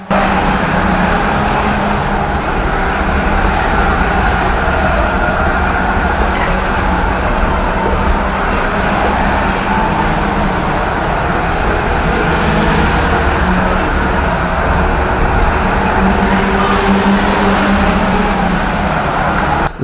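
Race cars circling the track at Cowdenbeath, a dense, unbroken roar of several engines that stays loud and steady throughout, with no voices.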